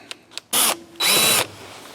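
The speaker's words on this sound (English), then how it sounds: "drill out the screw head" A power drill drills out a countersunk screw head during a Kirby Heritage Turbo vacuum fan replacement, two short loud whirring bursts after a couple of faint clicks.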